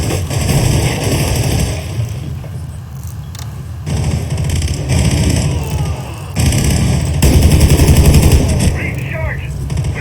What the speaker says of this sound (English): How I shot that Mozzie?